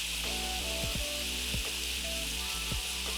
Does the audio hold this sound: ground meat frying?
yes